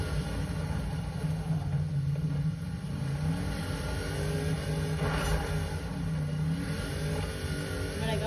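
A Toyota Hilux engine labours steadily as the truck climbs a hill, a continuous mid-pitched drone with slight revving swells, close and loud throughout, with no talking.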